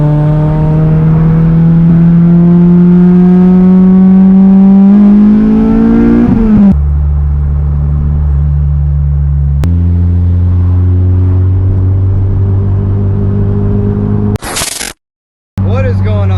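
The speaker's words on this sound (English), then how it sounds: "I know it's pretty loud, the windows are open, loud car" A loud Acura TSX engine drones and shifts pitch while driving with the windows open, the steady tonal exhaust hum changing through gear changes, with a voice speaking over it and a brief sharp click near the end.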